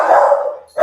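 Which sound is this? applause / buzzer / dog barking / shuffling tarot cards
dog barking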